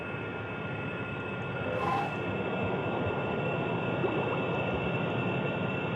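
A video game airplane engine strains in flight with a steady, loud, broadband drone that barely changes, alone with no voices.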